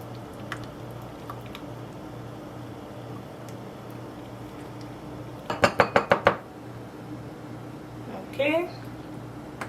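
A spoon stirring honey into yogurt in a bowl, a quick run of about six clinking taps against the dish midway, then one more scrape later, close and clear over a quiet background.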